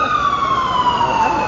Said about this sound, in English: We're gonna let the siren pass.